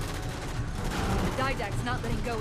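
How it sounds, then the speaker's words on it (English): Gun emplacements firing during a Halo 4 campaign battle: a dense, continuous clatter of gunfire and explosions with rapid bursts, loud and busy throughout, with game effects layered over it. "That might have been one of the gun emplacements that I activated firing at somebody."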